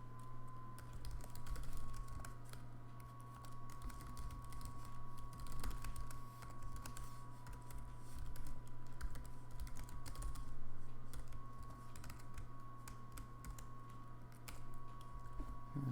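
Java code being typed on a computer keyboard: quiet, rapid key clicks in uneven bursts, with a faint steady hum underneath.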